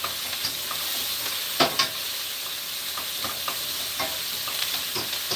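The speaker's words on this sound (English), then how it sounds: "saute all my seasoning" Seasoning sautéing in a pot sizzles with a steady, faint hiss, punctuated by a few soft clinks and stirring scrapes, with no talking.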